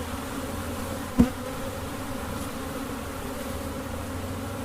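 Honey bees buzz in a steady close drone around a drone-brood frame pulled for varroa control, with a single brief knock partway through.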